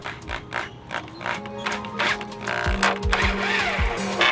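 A power driver sends screws into very hard pallet wood while a chicken coop is built, its whining motor rising and dropping through several short, straining pushes at close range.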